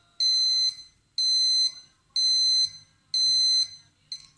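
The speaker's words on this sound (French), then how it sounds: "le capteur a détecté, le voyant a commencé par retentir et la lampe s'allume" Motion detector sensor on an automatic light sounds after detecting movement: four loud, evenly spaced high electronic beeps about half a second each, with a fifth starting at the end, near and alone.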